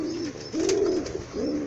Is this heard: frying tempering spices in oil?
no